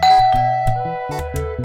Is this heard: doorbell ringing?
yes